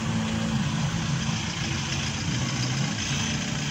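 Several car and motorcycle engines idle and rumble steadily outdoors in a street procession in Santana, Ceará, a low continuous drone of cars and heavier vehicles holding at a constant level.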